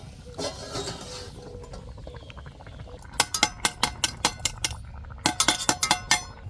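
A metal pot lid lifts with a clatter over a cooking pot of steamed mustard rohu fish, then a rapid run of sharp clinks and taps as water is added, close and fairly quiet.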